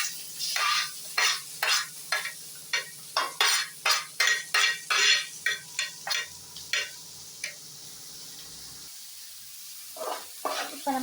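Finely chopped onions fry in hot oil in a pan while a utensil stirs and scrapes them in a steady run of sharp, close clinks over a low sizzle.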